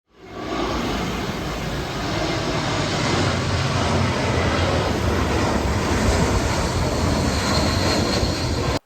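An airplane near the airport on Koh Samui, Thailand, a loud, steady, broadband roar that swells in quickly and holds for several seconds before cutting off.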